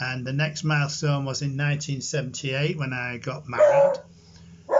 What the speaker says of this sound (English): that's my dog barking in the bedroom at people going past.